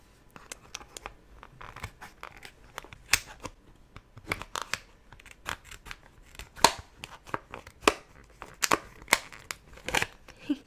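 Small scissors snip through crinkly plastic packaging around Japanese squidballs, a close binaural series of sharp cuts and crackling pops in an irregular rhythm, with no talk.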